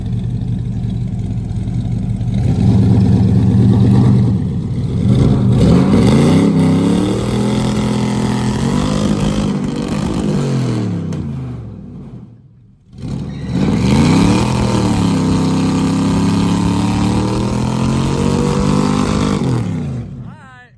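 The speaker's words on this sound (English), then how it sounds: "He hates doing burnouts on these tires" A burnout truck fitted with NASCAR-inspired boom tube exhaust roars in long, loud, sustained revs with rising and falling pitch. The engine cuts off abruptly midway, then roars back up.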